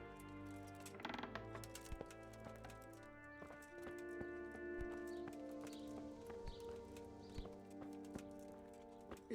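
Horse hooves clip-clop steadily at close range in the medieval Bohemian world of Kingdom Come: Deliverance, with a sustained musical score underneath and no talking.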